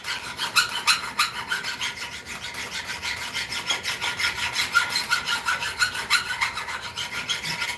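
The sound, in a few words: hardness-testing file rubbed across metal workpiece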